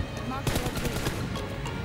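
Gunfire in the video game PUBG, a rapid burst of several shots over a dense, noisy game backdrop, fairly loud and close.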